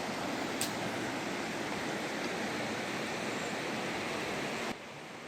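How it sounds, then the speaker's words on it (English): The South Fork Snoqualmie River in Olallie State Park, Washington, running low in mid-August, gives a steady, even broadband rush of flowing water close by, continuous with no voices and dropping slightly at the very end. "This is the South Fork Snoqualmie River."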